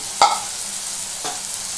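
Spices with turmeric and Kashmiri chili powder fry in a pan, a soft steady sizzle with two brief stirring scrapes, the first louder, close and without speech.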